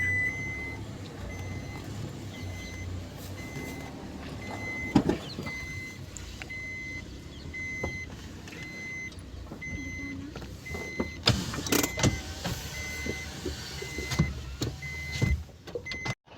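A truck engine rumbles nearby as it approaches, with intermittent beeps and clanks, growing louder toward the end.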